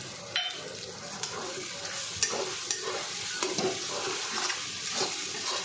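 Tomatoes go into a pan of fully fried masala for chicken kasha cooked with very little oil, followed by steady stirring and sizzling with scattered spoon scrapes and clicks, close by and moderately quiet.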